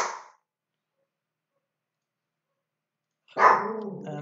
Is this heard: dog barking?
yes